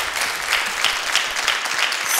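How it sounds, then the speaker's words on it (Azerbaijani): An audience in a television studio applauds a group of Azerbaijani musicians, a full, steady round of clapping from many hands heard close and loud for the whole moment. "Gəlin onları ürəkdən alqışlayaq."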